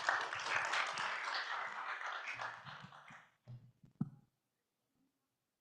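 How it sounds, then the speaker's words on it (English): Audience at a conference session on energy efficiency in buildings claps in a dense burst that thins out and stops, followed by a few scattered claps and then quiet. "Let's give her a round of applause."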